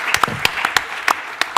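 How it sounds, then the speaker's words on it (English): A small group gives a sparse round of applause, scattered individual claps ringing out irregularly at an office awards event. "Give them a round of applause"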